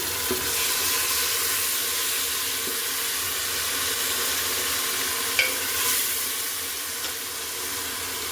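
Green chili paste goes into onions frying in a pan for morog polao, giving a steady close sizzle with soft occasional stirring scrapes throughout.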